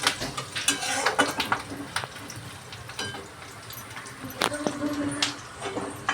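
Onion and curry leaves fry in a pan for a chicken curry, a soft sizzle broken by clinking spoon and pan knocks as they are stirred, with a voice talking at times.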